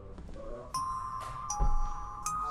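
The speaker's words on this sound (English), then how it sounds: "That better be a ring for the doorbell." A doorbell rings inside a house in a horror video game set on a night shift, sounding as a pair of clear electronic chime tones that hang and ring out over a low background hum, with no voices.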